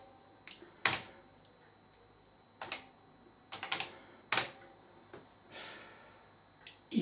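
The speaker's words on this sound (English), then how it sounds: "Oh, type my name." Scattered keystrokes on an Amstrad CPC computer keyboard, several sharp separate clicks and taps with irregular pauses, close and fairly quiet against a low background hum.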